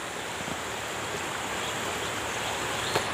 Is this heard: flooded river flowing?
yes